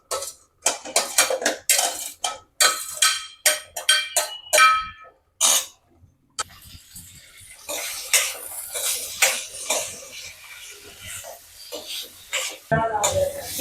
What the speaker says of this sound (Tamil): இது எல்லாத்தையும் போட்டு நல்லா வதக்கிக்கலாம்.